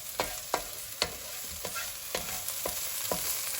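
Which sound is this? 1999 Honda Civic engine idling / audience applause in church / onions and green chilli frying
onions and green chilli frying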